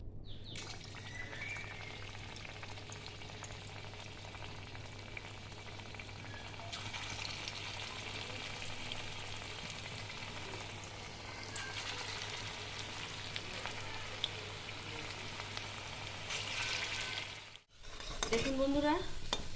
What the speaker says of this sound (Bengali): এবার আমি পকোড়াগুলো ভেজে নেব।